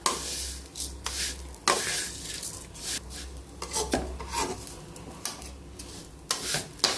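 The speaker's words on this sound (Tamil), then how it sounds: "இப்போ அதே கடாயில் சேமியாவை போட்டு வறுத்துக்கலாம்." Vermicelli roasting in a kadai is stirred with a spatula, giving repeated scraping and rasping strokes in an uneven rhythm, close and fairly quiet, with no talking.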